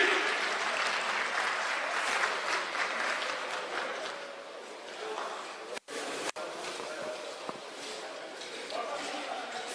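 An audience at a Buhurt armoured-combat tournament in Belgrade applauds and cheers in sustained, dense clapping that eases off midway, with a voice speaking over it.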